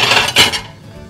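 Ceramic plates are handled and set down, producing a brief clatter of clinks and knocks that quickly fades.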